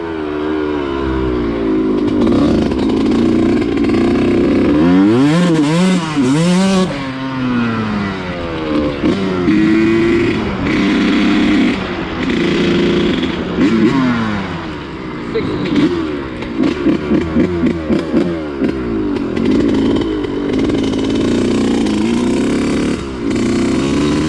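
A Suzuki RM125 two-stroke dirt bike runs nearby with a slightly low idle, its engine repeatedly revving up and falling back in rising and dropping wails, then settling into a choppy, buzzing rhythm.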